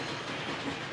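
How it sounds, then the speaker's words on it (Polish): Cartoon train rolling along railway tracks toward a crossing, a steady dense rumble with faint clickety-clack, loud and continuous for the whole second with no talk. "O, pociąg jest bliżej niż myślałem."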